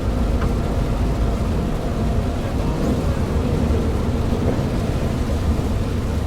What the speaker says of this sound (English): don't be worrying about the rain. Hopefully the rain will die off.